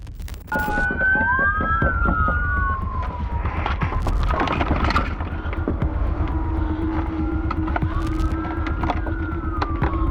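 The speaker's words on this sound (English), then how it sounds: "One police vehicle and then another zoom by" Police car sirens wail and sweep in pitch as the cars speed past nearby during a chase, over a constant heavy rumble of engines and road noise.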